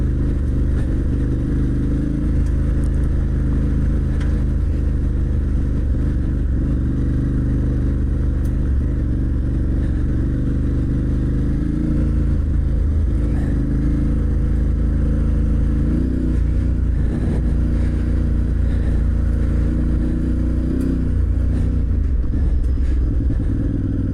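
A motorcycle rides a rough brick-strewn green lane byway trail in South Dorset, its engine a loud, continuous close rumble with rising and falling revs and occasional clatter, no voices over it.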